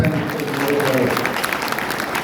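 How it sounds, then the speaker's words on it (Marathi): An audience claps at a community gathering for a bride and groom introduction event, a dense burst of applause heard from nearby among a crowd. "आपण सर्वांनी स्वागत करण्यासाठी त्यांचं टाळ्या वाजवून करायला"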